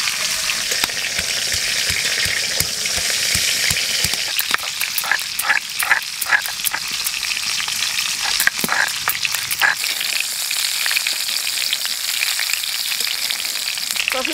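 Cauliflower and potatoes fry in a pan with a continuous close sizzle and crackle, while scattered sharp clicks and scrapes of stirring come and go through the middle.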